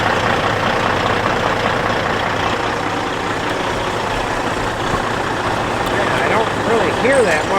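A truck out on a test drive after transmission trouble, its engine droning steadily and loud throughout, with road rumble and a voice talking over it near the end.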